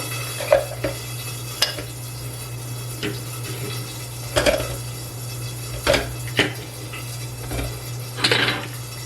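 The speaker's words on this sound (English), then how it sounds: "So we've added the onions, and now I'm going to add some potatoes." Potatoes go into a pan of cooking onions, with scattered clinks and scrapes of a utensil against the pan over a steady low hum and a faint sizzle, the knocks arriving every second or two.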